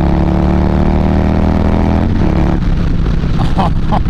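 A Harley-Davidson Street Bob 114 with a Stage 2 upgrade idles loudly at close range with a deep, steady rumble, then revs sharply in a few quick throttle blips.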